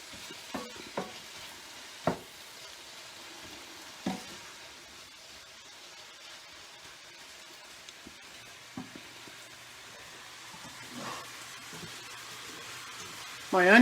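Onions, apples and honey stir and fry in a pan for a fall pork dish, with soft sizzling and a few sharp scraping knocks against the pan bottom, fairly faint and steady with no talk.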